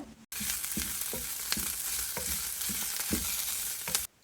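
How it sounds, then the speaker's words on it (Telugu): Garlic hits hot oil in a pan for an Andhra-style mutton curry, setting off a sudden steady frying hiss with soft rhythmic stirring scrapes, then cutting out abruptly. "అది కొంచెం ఫ్రై అయ్యాక అందులోనే నేను గార్లిక్ వేస్తున్నాను"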